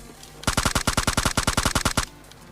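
Rapid automatic gunfire in the mobile battle-royale game PUBG Mobile Lite: a single burst of about fifteen evenly spaced, sharp shots lasting roughly a second and a half, loud and close, with quiet before and after.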